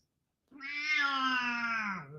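A single drawn-out cat meow, loud and close, rising then sliding down over about a second and a half, heard alone against silence.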